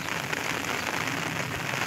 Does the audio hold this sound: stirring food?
no